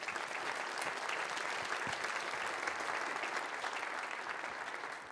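A conference audience applauds a panel at a community outlook event, steady dense clapping from many hands, fairly distant and even throughout, fading slightly at the end.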